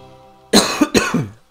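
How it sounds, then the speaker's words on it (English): Two harsh, loud coughs from a person with the flu, close to the microphone, each a sharp burst followed by a rasping tail, after a brief quiet moment. "I'm coughing a lot."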